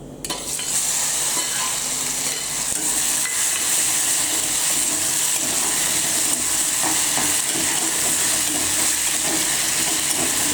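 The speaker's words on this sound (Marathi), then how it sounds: "आता चांगला परतून घ्यायचा आहे, एकदम कच्चा राहायला नको, म्हणजे चांगली मिरची परतून घ्यायची" Crushed onion and green chili thecha with curry leaves frying and being stirred in a hot pan, a steady loud sizzle with scraping stirs running throughout.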